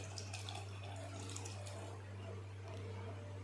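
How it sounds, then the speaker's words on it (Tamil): Coconut milk pours into a pot of sundakka vathal kara kulambu, a steady soft liquid stream over a low constant hum, close and fairly quiet, with no talk. "அப்புறம் தேவையான அளவு தேங்காய் பால் ஆட் பண்ணிக்கோங்க."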